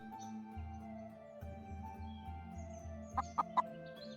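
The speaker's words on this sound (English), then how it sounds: "We have a chicken." A chicken in the farming video game Temporian gives three short, sharp clucks near the end, over looping game music with a steady low beat, fairly quiet overall.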